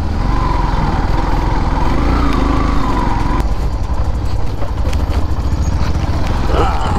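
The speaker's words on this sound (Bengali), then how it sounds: "বাইক একদম হিলে যাচ্ছে পুরা" Motorcycle ridden over a rough, sinking newly built dirt road, with a steady engine drone and jolting rumble throughout, loud and close; a voice speaks over it part of the time.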